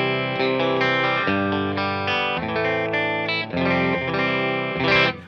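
An overdriven electric guitar runs through a Crazy Tube Circuits White Whale v2 spring reverb and tremolo pedal into an amp, strumming loud chords that ring out with distorted, reverberant sustain and shift every second or so.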